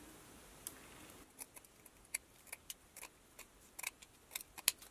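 Scissors snipping ribbon for a Dollar Tree wedding centerpiece craft, a series of small, sharp, irregular cuts, close and quiet, with no voices.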